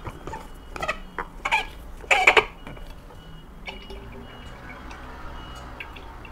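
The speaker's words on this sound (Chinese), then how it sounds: "所以你要先倒入一些热水，然后把它盖起来摇一下" A thermal food jar holding hot water is capped and shaken, producing a few short bursts of sloshing and rattling early on, then quieter faint knocks.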